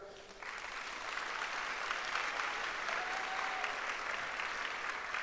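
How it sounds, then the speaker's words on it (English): Dense, sustained applause from a large crowd at a college valedictory service, starting quickly and holding at an even, full level throughout. "Clap them now."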